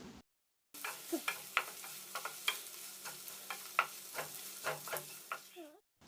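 Grated coconut and onion sautéing in a pan for onion chutney, a soft sizzle under repeated scraping and clinking stirs from a spoon, close and fairly quiet.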